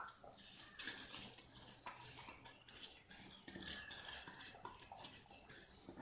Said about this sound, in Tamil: நம்மளோட அரிசி ஆட் பண்ணிக்கலாம்.